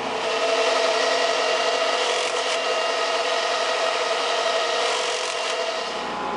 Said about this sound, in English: Give them a quick hit with the file.